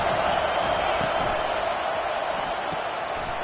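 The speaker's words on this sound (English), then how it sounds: "the crowd coming to life here, trying to help this defense down in the red zone" Stadium crowd at a Miami vs Notre Dame college football game roars steadily as fans rally for the defense in the red zone, a dense sustained wash of cheering with scattered whoops and thumps.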